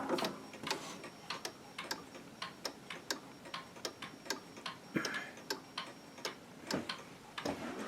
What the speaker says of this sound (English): I've got the door open because I'm winding my wall clocks up, so you can see how it's done